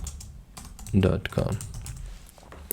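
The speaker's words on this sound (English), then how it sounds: "I will just hit the T and type name at example.com." Fingers tap out short bursts of keystrokes on a computer keyboard while typing an email address into a design app, a few quick clicks close by under light talk.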